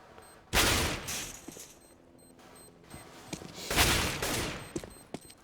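Gunfire in a Counter-Strike match on the Dust 2 map, a loud burst of shots followed by a quieter stretch of scattered fire, then a second heavy volley with a few trailing single pops.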